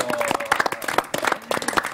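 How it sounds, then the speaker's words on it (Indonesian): Applause from a gathered audience at an Islamic religious talk on gratitude, a dense burst of many hands clapping close by that fills the whole moment, with a voice briefly heard over it. "Tepuk tangan buat Bang Sani dari Trasko."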